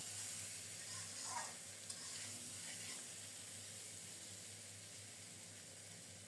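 Potatoes fry in oil for a potato dal with shrimp, giving a faint, steady sizzle with occasional soft scrapes as they are stirred.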